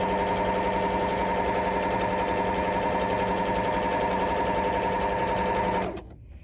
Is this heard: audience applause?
no